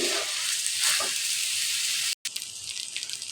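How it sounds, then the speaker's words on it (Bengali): Rice grains fry in a pan for khichuri, a steady close sizzling hiss with light stirring, broken by a brief moment of silence before the frying resumes. "দেখেন আমার চাউলগুলো ভাজা হয়ে"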